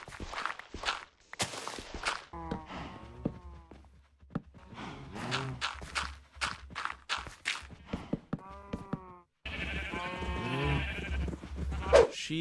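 Sheep bleating in the Minecraft video game, penned beside a cow, several short bleats scattered among soft footstep sounds, with overlapping calls growing busier toward the end.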